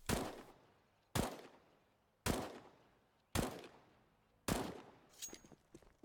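Five sharp, loud gunshots from the video game CS:GO fire at a steady pace about a second apart, each cracking bright and decaying quickly. A fainter scatter of clicks and small impacts follows the last shot.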